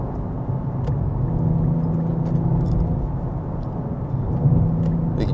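A 2024 Nissan Z Nismo pulls away in first gear, its engine giving a deep, steady rumble that swells slightly as it accelerates, heard from inside the car.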